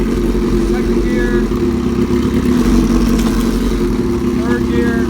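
A 2005 Suzuki GSXR 750 motorcycle engine accelerates in second gear, a loud, steady mid-pitched engine drone close to the microphone with a slight rise in revs.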